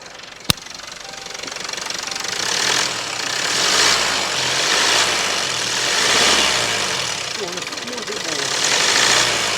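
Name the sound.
Land Rover Evoque engine idling and revving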